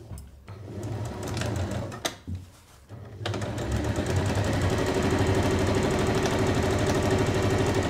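Stitching a fold-over clutch bag, a sewing machine starts in short stop-start bursts, then settles into a long, steady, loud run of rapid needle strokes close by, with no voices.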